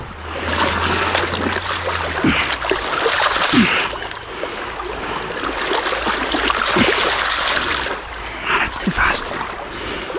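Fast, turbulent water of a big river swollen after a storm rushes steadily throughout, close and loud, with a person speaking briefly over it.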